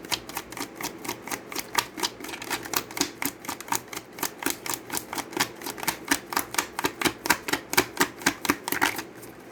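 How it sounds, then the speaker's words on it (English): Tarot cards being shuffled and pulled from a deck, a long run of quick, even, crisp clicking flicks close by, steady in rhythm for about nine seconds with no talking. "I'm going to pull one more card for that"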